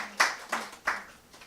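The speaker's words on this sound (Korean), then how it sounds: "우리 박수 한번 주시기 바랍니다" A church congregation during a worship service claps a few times: three or four sharp, sparse claps spread over a moment, close and distinct, with no talking.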